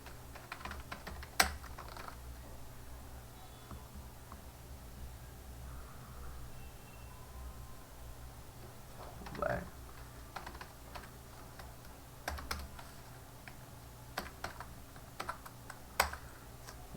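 Typing Arduino code on a computer keyboard, steady soft key clicks with a few louder taps, close and fairly quiet, continuing alone with no talking.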